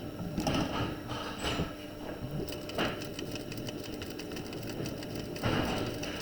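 A sewing machine stitches a seam with a long stitch length on a sweetheart top, its motor whirring steadily and close, with brief pauses and restarts in the stitching.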